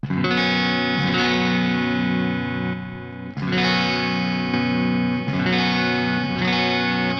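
Chords on an electric guitar with a crunchy overdrive tone through an LA Studio compressor effect, compressed and struck three times, left to ring out thick and sustained.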